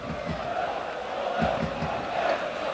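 Football crowd of FC Porto supporters at Estádio das Antas during a 1993/94 Champions League match against Werder Bremen, a steady roar of cheering and chanting with rhythmic swells, loud and continuous throughout.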